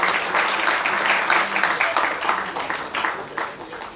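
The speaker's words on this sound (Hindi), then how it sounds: "Please give him a huge round of applause everyone." Audience clapping at an award ceremony for social activists, steady applause from a crowd filling the space, with a voice audible over it.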